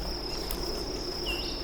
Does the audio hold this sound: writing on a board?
no